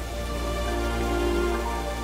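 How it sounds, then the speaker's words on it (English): Water pours down the Rain Vortex, the tall indoor waterfall at Jewel Changi Airport, in a steady, dense hiss like heavy rain, with no voices. "Jewel Changi Airport is home to the world's tallest indoor waterfall, known as the Rain Vortex."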